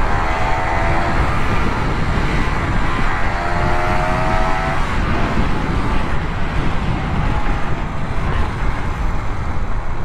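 A Honda Click 125i scooter engine runs loud and close, a continuous droning roar with a steady rumble and faint tonal whine rising through it over ten seconds.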